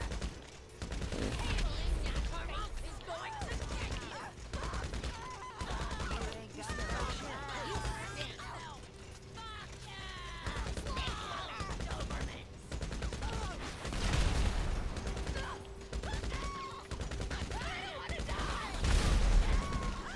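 Gunfire in Grand Theft Auto V, with scattered bursts and volleys of shots mixed into busy game noise while people talk over the action throughout.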